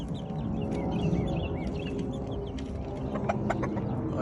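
Chickens and young chicks on a farm in the rain give soft, scattered clucks and chirps against a steady wash of rainfall, with a few sharper calls standing out near the end.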